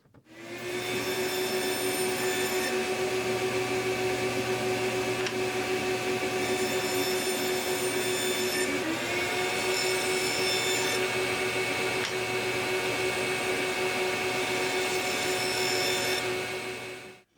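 A table saw cuts Baltic birch plywood to size, a loud, steady motor whine with a sustained cutting tone that shifts slightly in pitch midway, running for the full stretch and dying off at the end, with no speech.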